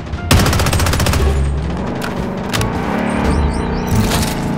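Loud, close automatic gunfire in the Blood Strike video game, with sustained rattling bursts over a low vehicle-like rumble.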